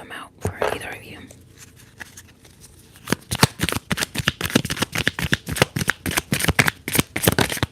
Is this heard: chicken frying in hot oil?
no